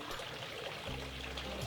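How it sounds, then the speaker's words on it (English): Chocolate ganache pours over a raspberry cheesecake with a soft, steady liquid trickle, faint and continuous, with a low hum joining partway through. "now I'm just pouring my ganache on, and I'm using a spoon to just help it"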